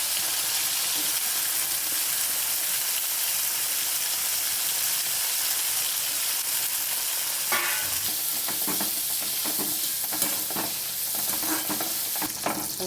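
Raisins fry in hot oil with a loud, continuous sizzle close by, busier crackling and stirring scrapes joining partway through as they are moved and lifted out.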